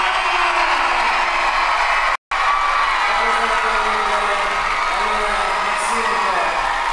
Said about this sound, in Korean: 함성소리가 다른데요